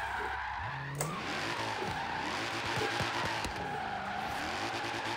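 A Nissan S14 drifts in Forza Horizon 3 seen from a third-person view, its engine revving up and down in sweeping pitch arcs beneath a steady, loud tire squeal that holds for the whole stretch.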